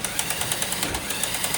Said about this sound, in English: We're going to run the intake with the motors.